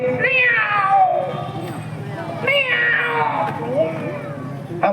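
A child mimics a cat with two long, falling meows, close and clear, followed by a shorter voiced sound at the end.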